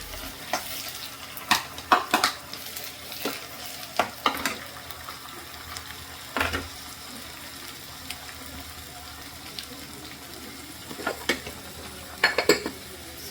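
Onions and tomato frying in a pan while a spoon stirs them, giving scattered clinks and scrapes against the metal over a low steady sizzle, close by and with no voices.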